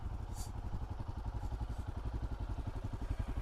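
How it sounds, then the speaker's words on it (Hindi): A motorcycle cold-starting on a frozen early morning in the high Himalayan route toward Om Parvat, its engine chugging in a steady, rapid low pulse close to the microphone, slightly rough and clattery. "और बाइक की हालत मैं आपको दिखाता हूँ। कोल्ड स्टार्ट कर रहे हैं"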